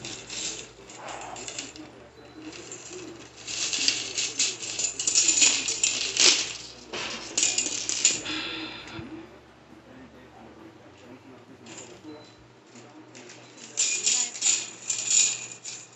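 Chain link fence wire being untangled and shaken gives off jangling metallic rattles and clinks in bursts, louder in the middle and again at the end, with quieter stretches between.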